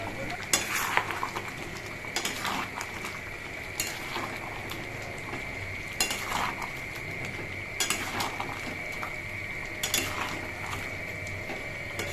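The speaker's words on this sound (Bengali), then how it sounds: "এখন আমি সবটা ভালো করে কষিয়ে নেবো" Hariyali chicken curry with coriander paste is stir-fried in a pan, with steady sizzling broken by repeated scraping strokes of a spatula every couple of seconds, close and clear, no talk.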